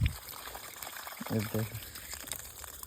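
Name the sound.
water flowing out of farm well pipe filter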